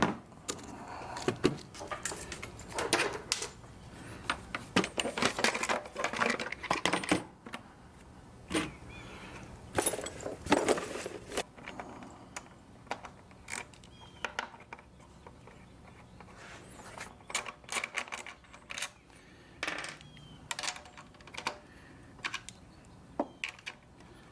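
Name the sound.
removing carburetor from Coleman Powermate 6560 generator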